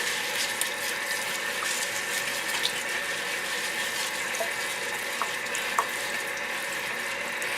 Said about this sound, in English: we have to wash the broccoli rabe. Okay, so you just want to give it a good rinse